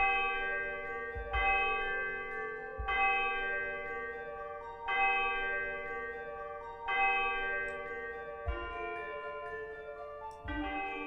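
Orchestral percussion with chimes from a Hollywood Orchestrator adventure-style arrangement, struck chime tones ringing out in a regular pattern roughly every one and a half to two seconds, each bright stroke sustaining and decaying over a low thudding drum bed.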